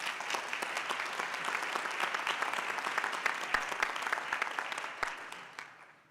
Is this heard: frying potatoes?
no